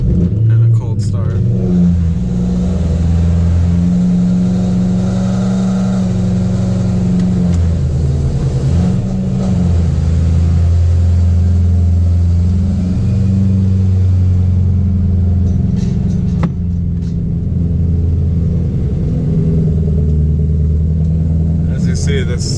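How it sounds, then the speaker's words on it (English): BMW E92 M3 cold start, a loud steady engine rumble with shifting pitch that holds throughout at close range, with some talking over it. "car is super loud on the cold starts."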